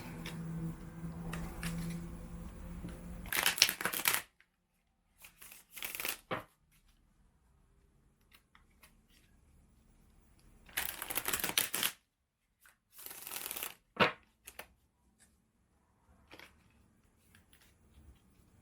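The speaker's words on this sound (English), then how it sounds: "Last little shuffle." Tarot cards are shuffled in several quick riffling bursts separated by quiet pauses, close and crisp, with soft handling noises between and no speech.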